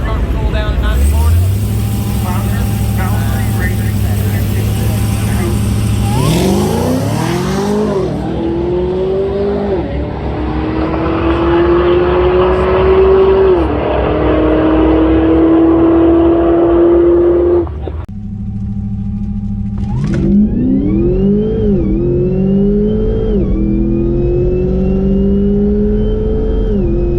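A drag race car stages and launches down a quarter-mile strip, its engine rising in loud, climbing rev sweeps through the gears, then cutting off before another car's engine revs up nearby; crowd or announcer chatter sits underneath.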